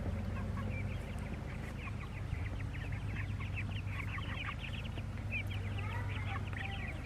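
A flock of chickens clucks and murmurs outdoors, many overlapping soft calls at mid distance over a constant low background hum, with no talking.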